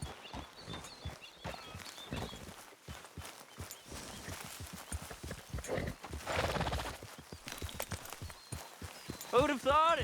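Horse hooves clopping at a steady gallop in the Western video game Red Dead Redemption, rhythmic hoofbeats close by under characters' dialogue, with a brief whinny near the end.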